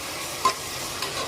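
Sliced onions sautéing in a pot for a peas pulao give off a steady hiss of frying with a couple of brief stirring scrapes, heard close up with no talking.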